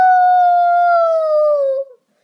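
A dog gives a single sustained howl nearby, loud and steady for nearly two seconds before fading out, with no talk over it.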